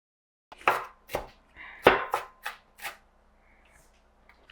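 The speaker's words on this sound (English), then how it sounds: "And I'm going to chop up my onion." A knife chops through an onion on a cutting board in a home kitchen, about seven sharp, close, separate strokes in an uneven rhythm, then quiet.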